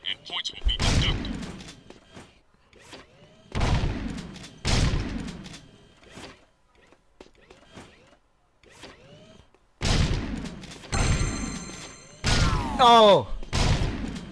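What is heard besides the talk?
gunfire at shooting gallery targets, video game Jak 2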